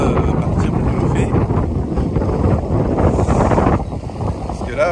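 Strong wind of over 20 knots buffets a sailboat under full sail, a loud, constant roar of wind across the microphone with water rushing beneath, holding steady throughout with no voice heard.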